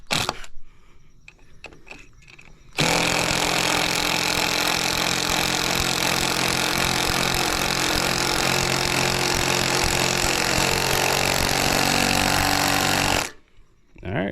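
A Hyper Tough 12V cordless impact driver drives a 3-inch screw into knotty, swollen wood with a sustained, loud rattling hammer lasting about ten seconds, framed by brief quieter handling noises before and after.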